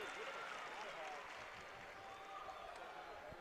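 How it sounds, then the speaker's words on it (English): Fans clapping in a gym at a boys' high school basketball semifinal between Crete and Skutt Catholic, a dense, steady patter of applause throughout, with a commentator's voice talking over it. "Crete fans were clapping"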